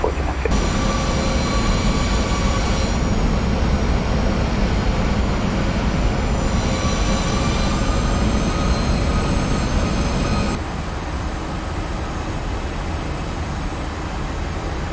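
A United 737-800 rolls down the runway for takeoff in the Prepar3D simulator, its engines giving a loud, steady roar with whining tonal layers that shift partway through before dropping to a lower rumble.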